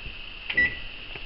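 A kitchen timer being set to nine minutes for baking cookies gives a single short electronic beep, fairly faint, with no talk over it.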